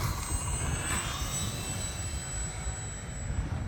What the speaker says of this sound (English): So less than half throttle for that takeoff into the light breeze.